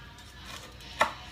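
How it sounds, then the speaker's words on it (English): A single knife chop cuts the end off a pandan leaf in a home kitchen, one sharp close knock against a quiet background. "Chopping the end off, though."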